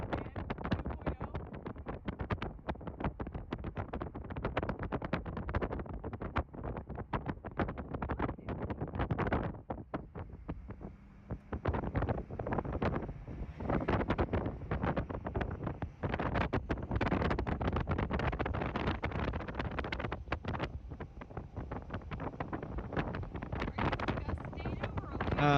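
Strong gusting wind during tornado weather in Texas buffets the microphone in a continuous loud roar with rough, uneven surges, and a voice talks faintly beneath it.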